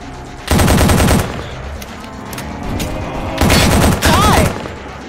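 Pistol fire in the zombie video game Recoil comes in two rapid, loud bursts of shots with a quieter stretch of game noise between them.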